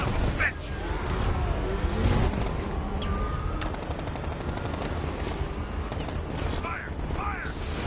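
Rapid, continuous automatic gunfire in Batman Arkham Knight, loud and sustained throughout, with mechanical clatter and vehicle chaos and a few sharp bursts near the end.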